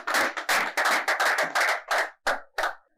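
Close, loud rhythmic clapping from a studio audience at a French-language Saturday-night show, coming in heavy repeated bursts with short breaks, the last claps more spaced out.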